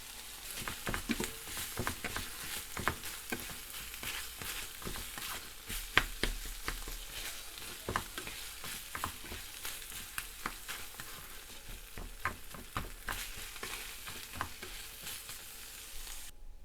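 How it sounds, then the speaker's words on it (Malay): Sardine filling seasoned with salt and sugar sizzles steadily in a pan, with frequent scraping clicks of stirring throughout and no voices. "Masukkan garam, gula dan kacaukan sehingga sebati."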